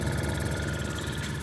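MF Twin, SEL 1540 and Burnac Vulcan model engines run on compressed air, giving a fast, even mechanical chugging with a rhythmic pulse and a whirring, ringing tone, close and steady throughout.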